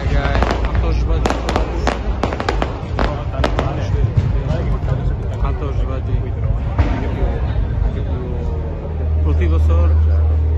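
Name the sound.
fireworks at Prato della Valle for Ferragosto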